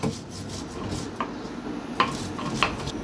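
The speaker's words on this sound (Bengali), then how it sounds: "এখন এটা আমি আদা বাটা করে বেটে নিব।" Ginger is ground into a paste with a scraping, rubbing sound, faint and close, broken by a few sharp clinks and knocks at irregular intervals.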